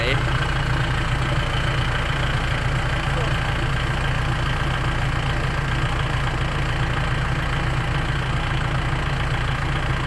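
A tractor engine runs steadily nearby, a loud continuous chugging drone with a low rhythmic throb throughout.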